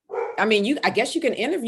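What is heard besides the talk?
bull mastiff dog barking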